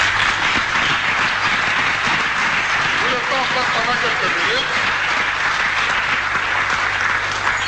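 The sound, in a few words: congregation applauding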